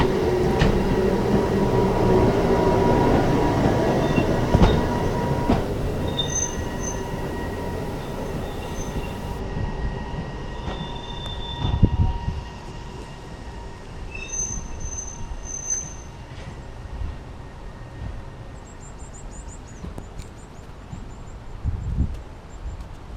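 Stourbridge Town flywheel railcar climbing a steep gradient out of the station, a loud steady rumble of wheels on rail with intermittent squeals and knocks, gradually easing as it pulls away, no talk.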